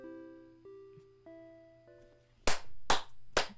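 Three sharp, loud claps sound in quick succession in the video game Bad End Theater, coming right after soft, sustained music notes.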